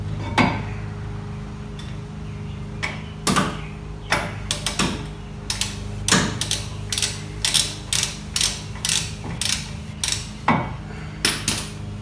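Ratcheting clicks from an 18 mm socket wrench loosening front brake bolts on a Chevy Silverado, coming in quick bursts of sharp metallic ticks with short pauses between them, close and fairly loud with no talking.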